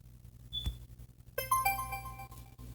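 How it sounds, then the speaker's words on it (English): A DSD alert notification sound played on an Android phone: a bright chiming sequence of rising tonal beeps with a lingering shimmer, loud and close, following a brief faint tap and quiet room hum. "It's called DSD alert. So if I click on it, it makes a noise."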